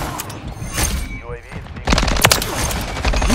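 Automatic gunfire from Modern Warfare 3 multiplayer on the Rust map, dense and loud, with rapid overlapping bursts that stay close and continuous, ending in a heavier volley of shots.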